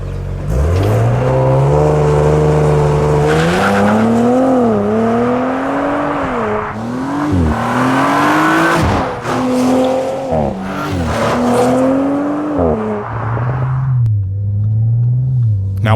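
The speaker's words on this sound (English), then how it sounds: "I decided it was time to open the taps up a little bit and see what the Audi RS4 was like on a" A bright blue 2022 Audi RS4 launches hard and accelerates, its engine loud and close, climbing in pitch through repeated surges with brief dips at each gear change before settling to a lower rumble.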